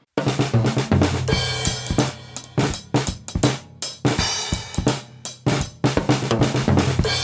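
A full drum kit plays a steady beat with punchy kick, sharp snare hits and washy cymbals, captured by a single mic placed above the kick drum facing the snare, with a roomy, balanced sound.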